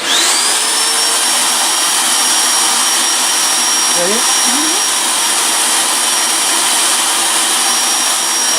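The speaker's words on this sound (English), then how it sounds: "Let's turn on the vacuum." A vacuum cleaner roars steadily and loudly from start to finish, its high whine constant, with a brief spoken word partway through.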